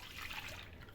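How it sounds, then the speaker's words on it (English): Milk poured into a clean bowl while making donuts, a brief soft trickle of liquid, faint and close, with no talking. "So I'm going to be adding my milk into a bowl."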